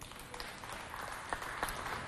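An audience applauds a speaker from a coordination group after a presentation, a steady moderate patter of many hands with a few louder claps, no voices over it.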